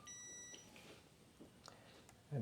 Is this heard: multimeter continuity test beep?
yes